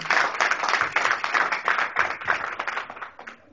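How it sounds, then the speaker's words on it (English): An audience at a Continental Africans for Obama gathering claps for a speaker from Uganda, a fairly small crowd whose brisk, distinct handclaps ring out together and taper off toward the end. "Round of applause, please."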